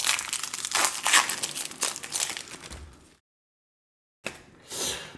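A Pokémon TCG booster pack being torn open and crinkled, continuous close foil wrapper rustling for about three seconds, a pause of silence, then more crinkling and tearing.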